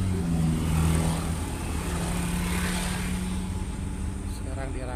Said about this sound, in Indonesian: lokomotif watermelon yang lewat nih.